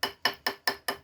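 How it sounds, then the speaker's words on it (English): A ball peen hammer knocks a hole through gasket material for a Ford Escort MK1 Zetec water rail: five sharp, close metallic strikes at a steady, even rhythm, each ringing briefly before the next. "use a ball peen hammer and knock out the"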